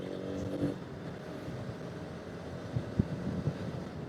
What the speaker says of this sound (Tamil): நம்ம வந்து இப்போ 6th கியர் போட்டிருக்கோம், 60 km ஸ்பீடில் வந்து போகிறோம்.